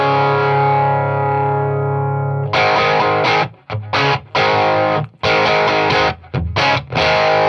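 Electric guitar through a Boss Blues Driver overdrive pedal: a held, ringing chord fades, then loud, gritty overdriven strums and chopped chords with short gaps, played alone.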